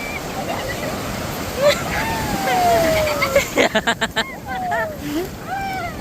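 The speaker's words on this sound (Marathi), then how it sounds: "मोठ्या मोठ्या लाटा यायला लागल्या" Big sea waves roll onto Kalamb beach in Maharashtra with a broad, continuous surf roar. Beachgoers' voices and shouts come and go over the rushing water.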